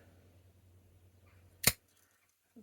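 A Victorinox Swiss Army knife tool snaps open with one sharp metallic click, then a faint softer tick after a pause, over a quiet room hum.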